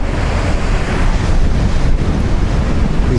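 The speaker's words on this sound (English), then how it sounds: "These badass waves, they be hitting the shore right here." Storm-driven Pacific winter waves crashing onto the shore near a breakwater, heard as a loud continuous rush of surf with heavy wind noise on the microphone and no voices.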